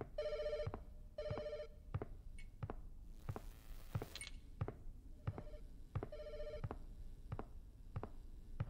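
An old-style telephone rings in a horror video game, a repeated double-burst bell pattern returning several times among footsteps and ambient thuds, fairly quiet and with no talking.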